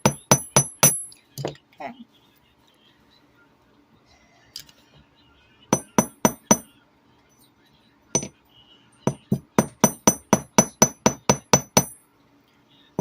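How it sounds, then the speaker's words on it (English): Wire for a wire-wrapped necklace being hammered in two bursts of sharp, bright metallic taps, a handful at first and then a long steady run, with brief talk and quiet handling in the gaps. "Don't have to hammer it too much because then your wire can end up breaking"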